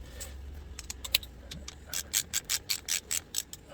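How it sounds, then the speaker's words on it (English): A torque wrench tightens an S&S 475 cam bolt on a Harley M8 114 engine to 15 foot-pounds, giving a quick run of sharp ratcheting clicks, faint at first and then louder and evenly spaced, with no talk. "And then, torque it to 15 foot-pounds."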